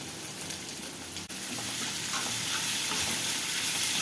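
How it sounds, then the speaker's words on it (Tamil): Chopped onions and tomatoes sautéing together in a pan for egg masala curry, a dense continuous sizzle close up with faint stirring, briefly dipping once before carrying on steadily. "இந்த வெங்காயம் தக்காளி எல்லாமே நல்லா சேர்ந்து ஒன்றா வதங்கி வரணும் ஃப்ரெண்ட்ஸ்"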